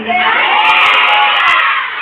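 A large crowd shouts loudly together in one sustained, roaring cry, with children's voices mixed in and no pauses throughout.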